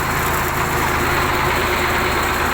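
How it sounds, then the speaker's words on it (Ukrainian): A steady, loud T-150 wheeled tractor engine chugs at a low idle, with a rhythmic throbbing pulse that continues unbroken throughout. "трактор працює"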